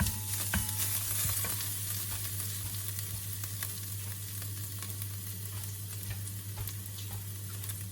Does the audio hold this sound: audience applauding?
no